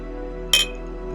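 Glasses clink once in a toast at an outdoor meal by a fishing lake, a single bright, short chime rising over quiet background hum.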